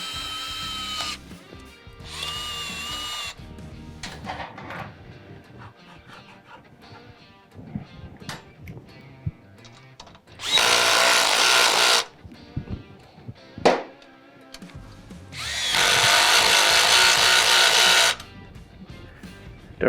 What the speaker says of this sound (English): from underneath, you can tighten the hose clamps